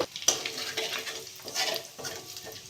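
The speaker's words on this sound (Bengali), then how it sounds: "জিরেটা একটু ভেজে নেব।" Whole cumin seeds fry in the same oil that shrimp was just fried in, giving a soft crackling sizzle broken by bursts of scraping as a utensil stirs the pan, close by and steady, with no talking.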